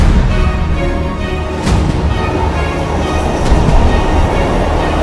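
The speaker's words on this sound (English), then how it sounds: "I'm on the train, yeah." Steady rumble of a passenger train in motion, heard from inside a carriage, with continuous low-frequency rolling noise and faint rail clatter; no one speaks.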